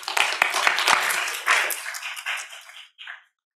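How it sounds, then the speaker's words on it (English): Audience applause at a university product pitch competition final, a burst of scattered clapping with a few sharp claps up front that thins and fades out quickly. "A big round of applause, ladies and gentlemen"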